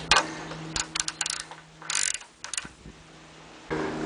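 A 15/16 ratchet works a nut loose on a John Deere LT155 mower with a Kohler engine, giving short bursts of sharp clicking pawl ticks, close and fairly loud, separated by brief quiet gaps.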